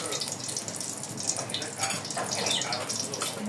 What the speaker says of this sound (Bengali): তারপরে তেল গরম হওয়ার পরে মাছের মাথাগুলোকে আমি এখানে দিয়ে দেব।